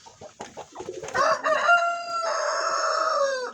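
A Tiger breed rooster crows once, loud and close, a long drawn-out cock-a-doodle-doo that follows a few short clucks and calls.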